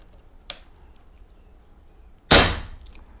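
A single loud, sharp report from a PCP Ghost Warrior regulated air rifle with a suppressor, preceded by a faint click, in an otherwise quiet setting.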